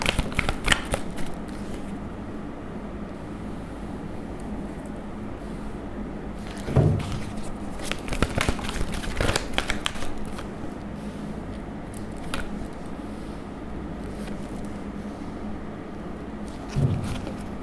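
Tarot cards shuffled by hand, with brisk, close papery riffling bursts that come in separate clusters spread across a long, otherwise quiet stretch, without talk.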